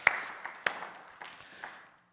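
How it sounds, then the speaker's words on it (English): A church congregation gives a short burst of applause, a few sharp claps standing out before the clapping thins and fades to quiet within two seconds. "He deserves another applause."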